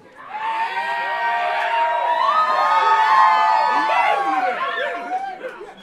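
Crowd at a live poetry bout screaming, whooping and cheering loudly for several seconds, the noise rising to a peak and tapering off, with voices shouting over each other.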